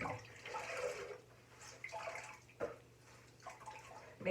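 Water splashing at a bathroom sink as a face is rinsed, coming in several short bursts of splashing with quiet gaps between them, close and moderately faint with no talking.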